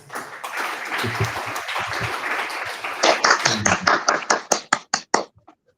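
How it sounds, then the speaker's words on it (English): Audience applause for a speaker at a talk on Atlassian certification: a blur of clapping that breaks into a few distinct, widely spaced claps before dying out. "So just give a lot of applause to Alex."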